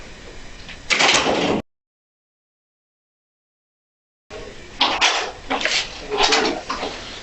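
A door is dragged, knocked and set in place inside an interrogation room, with a sharp scraping bang, a gap of silence, then a run of clattering thumps and bumps nearby.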